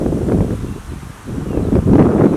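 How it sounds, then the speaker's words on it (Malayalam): Strong wind gusting through a home vegetable garden, loud buffeting rumble that swells, dips briefly, then returns harder, with leaves rustling close by. "ഇന്നിവിടെ അത്യാവശ്യം നല്ല കാറ്റ് വീശുന്നുണ്ട് കേട്ടോ"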